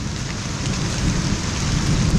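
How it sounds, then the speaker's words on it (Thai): Heavy rain pours steadily on a mountain summit, mixed with a deep low rumble of thunder, loud and continuous with no voices. "ฝนตกน่ากลัวทุกคนฟ้าร้องด้วยทุกคน"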